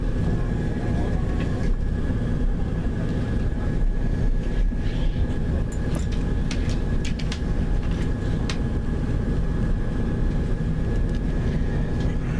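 A train rumbles steadily on its approach into Edinburgh Waverley station, a loud continuous low roar of wheels and carriage with faint scattered clicks, carrying on throughout with no talk.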